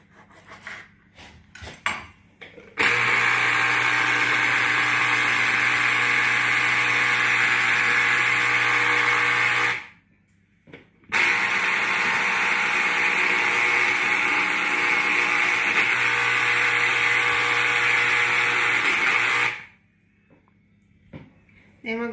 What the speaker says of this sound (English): we're going to juice one orange